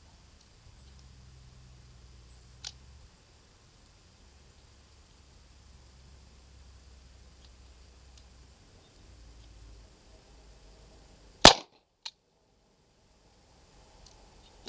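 A USFA Zip 22 pistol firing Winchester white box ammunition gives one sharp, loud crack late in an otherwise quiet stretch, followed closely by a fainter click.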